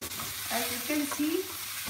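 Bitter gourd, potatoes, onions and tomatoes sizzling softly in a pan as they are stirred, a brief quiet frying hiss with light scraping and no voices.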